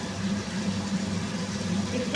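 Potatoes fry with spices in a pan, producing a continuous close sizzle with a low bubbling hum beneath it and a few light scrapes as they are stirred.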